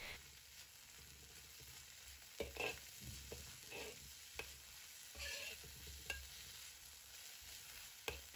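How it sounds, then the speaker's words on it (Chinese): Chopped garlic chives stir-fried in hot oil in a wok give a soft, steady sizzle, broken by sharp clacks and scrapes of the spatula at irregular intervals. "油热后我们先下入韭菜碎翻炒"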